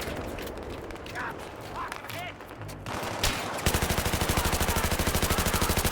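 Battlefield 3 light machine gun firing in a video game, a steady rapid stream of loud, evenly spaced shots that starts suddenly after quieter game sounds and someone talking.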